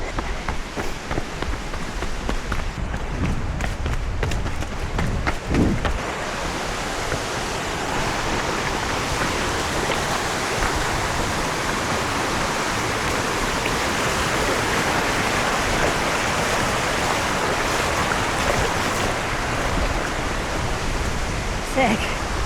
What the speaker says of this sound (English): This waterfall we actually crossed right in front of, getting our feet just a little bit wet.